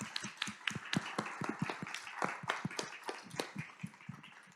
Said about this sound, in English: let's give a round of applause to all of our speakers